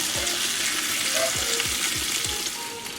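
Pork ribs brushed with homemade barbecue sauce caramelize in a pan on the stove, sending up a loud, continuous close-up sizzle with a few soft stirring or turning thumps underneath.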